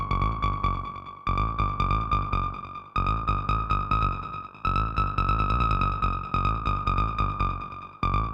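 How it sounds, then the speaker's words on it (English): A Korg Electribe 2 acid synth line using the TB-303 filter model with a barely opened envelope, playing a repeating run of short plucky notes in a steady groove with a resonant squelchy tone, loud and alone. "And that way we can get this acid sound"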